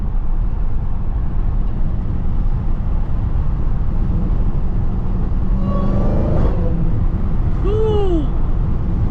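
Constant low road rumble inside a moving Dodge Charger Hellcat in morning traffic, with a loud rising and falling supercharger-style whine that sweeps up in pitch near the end.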